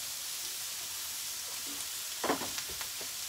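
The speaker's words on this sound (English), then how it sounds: "So we're just gonna stir these vegetables around." Vegetables sizzling on a Blackstone griddle, a steady hissing fry with a few clattering scrapes of stirring near the end, close and fairly quiet.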